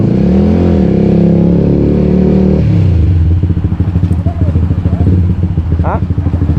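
A motorcycle engine revs loud and close, then settles into a rough, pulsing idle with clattering firing beats. A short voice breaks in near the end.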